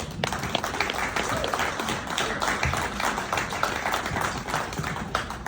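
A stand-up comedy crowd in Holland, Michigan applauds comedian Rod Stark with sustained, dense clapping throughout.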